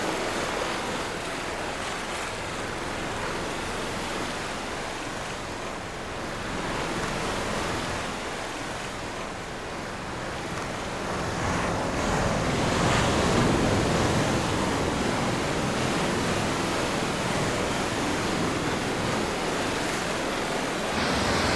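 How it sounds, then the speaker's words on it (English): Sea waves roll and splash continuously on the drive-in beach at Kannur, Kerala, a broad steady wash of surf that swells louder midway, with some wind on the microphone. "The splashing sound of waves"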